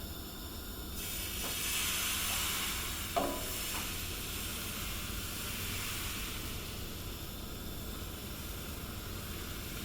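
Pancake batter cooks in a hot frying pan, giving a soft, steady sizzle and hiss, with one faint clack partway through.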